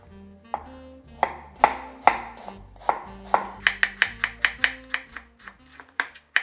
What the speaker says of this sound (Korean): 그러면은 사과를 바로 손질해 주도록 하겠습니다